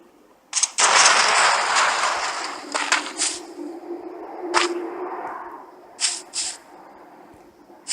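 Gunfire in the video game Knives Out, a dense burst of shots at the start followed by several scattered single cracks and two quick later reports, moderately loud with no talk over it.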